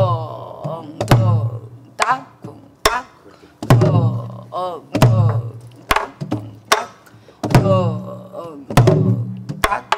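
A Korean traditional drum is struck slowly in a steady rhythm of sharp, resonant hits spaced about a second apart. A voice chants or sings along between and over the strokes.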